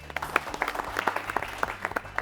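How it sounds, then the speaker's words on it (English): An audience at a quiz show applauds a state team from Bihar, a brief burst of scattered, moderately loud clapping in an indoor hall. "Let's clap for them."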